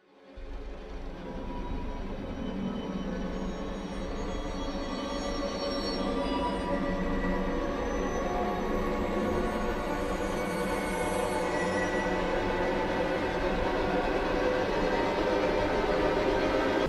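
Irregular horror soundscape from Incompetech: a dense, grinding metallic drone with screeching, squealing upper tones that swells in after a brief silence and sustains steadily, loud and unbroken, with no voices.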